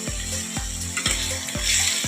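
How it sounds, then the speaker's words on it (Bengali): Large prawns sizzle in hot oil in a pan, a bright crackling fry broken by a few regular scraping stirs, close and steady throughout the short stretch. "এখন ভাজছি চিংড়ি মাছটা"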